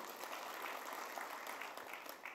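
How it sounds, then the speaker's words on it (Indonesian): Congregation clapping during a Christian sermon, a faint continuous patter of many hands heard from a distance and sustained across the whole stretch. "Berikan tepuk tangan yang meriah."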